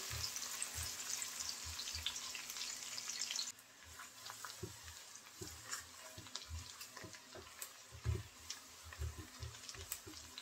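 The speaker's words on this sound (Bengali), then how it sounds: "নেড়ে চেড়ে আমি পেঁয়াজটা একটু লাল লাল করে ভেজেছি।" Onions frying in oil with cardamom, cinnamon, cloves and bay leaf while being stirred: a soft, quiet sizzle for a few seconds, then a lower hiss broken by light scraping and clicking from the stirring.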